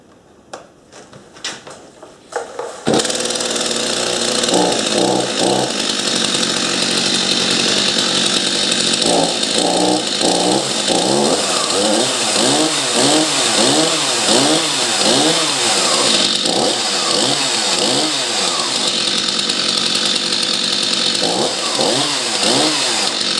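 A Stihl 251c chainsaw fires up after a few short pulls and settles into a loud, close running drone, its engine rising and falling through several throttle revs before easing back toward idle.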